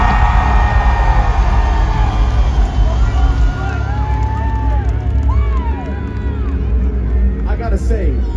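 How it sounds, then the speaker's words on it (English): A large crowd at a live rock concert roars and cheers for a performer named Grace, loud and continuous, with shouts and whistles rising over a dense babble of voices. "noise for Grace, everybody."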